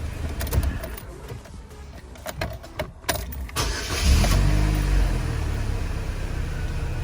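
A 2005 Chevrolet Cavalier with a gauge fault has its ignition key cycled, with a few sharp clicks and starter bursts before the engine catches. It then settles into a steady, close idle.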